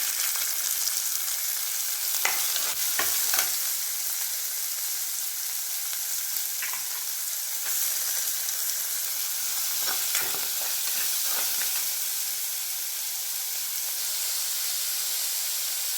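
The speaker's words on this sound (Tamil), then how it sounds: "கொஞ்சமாக உப்பு போட்டு நல்லா கோல்டன் ப்ரௌனாக வதக்கிடணும்" Finely chopped onions with salt sauteing in a pan for a mixed vegetable sabzi give a steady close sizzling hiss, punctuated by clusters of scraping stirs, with no talking.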